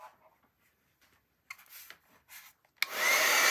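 A heat tool blows over wet watercolor paint. Faint rustling and brief handling sounds come first, then a loud, steady, close rushing blast begins near the end and continues to the finish.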